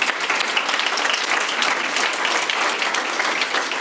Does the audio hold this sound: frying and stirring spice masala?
no